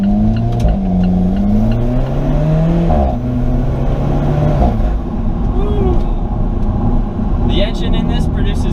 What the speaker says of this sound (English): you can hear the exhaust right behind you